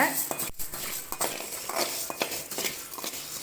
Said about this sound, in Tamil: முழு கொத்தமல்லி ஒரு கப்பு எடுத்துருக்கேன் அதை இப்போ வறுத்துக்கலாம்